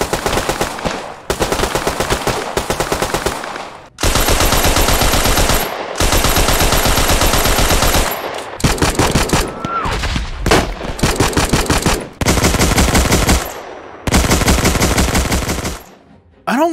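Bursts of automatic gunfire from World War II weapons such as the BAR and Thompson in the Hell Let Loose video game. Loud, rapid rattling volleys are broken by short pauses, with no talk.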